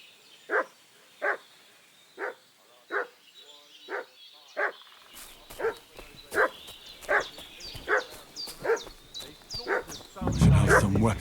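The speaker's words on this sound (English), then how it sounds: "What's that dog making such a fuss about?" A dog in Kingdom Come Deliverance 2 barks steadily, about a dozen evenly spaced barks at moderate distance, over quiet outdoor ambience that thickens toward the end.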